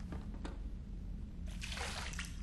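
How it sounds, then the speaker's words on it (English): In the video game Mass Effect 3, a burst of splashing water on a face lasts about a second near the end, following a brief splash earlier over a low steady hum. "Splash water on our face."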